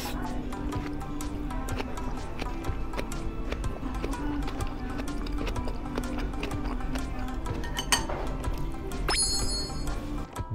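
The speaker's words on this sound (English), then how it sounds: "I'd like you to hear how crispy it is." Crispy Okinawan food is bitten and chewed at a Tokyo restaurant, giving a continuous run of close, crackly crunches over a low room hum.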